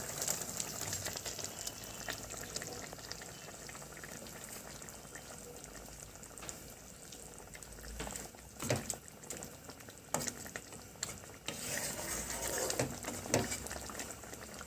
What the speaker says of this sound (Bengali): ঝোলটা ফুটে গেছে, এখন আমি মাছগুলি দিয়ে দেব।